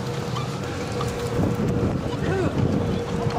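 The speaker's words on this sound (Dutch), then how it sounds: "Het waait aardig, hè?" Strong wind buffets the microphone outdoors, a loud continuous rush with gusts that swell toward the end, while people talk faintly underneath.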